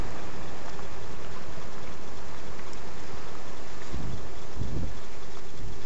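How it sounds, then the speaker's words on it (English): Wind buffets a microphone in a constant loud roar in a garden by a greenhouse, with heavier low thumps from gusts toward the end and no voices. "it's quite windy and it's hard to hear you because of the wind"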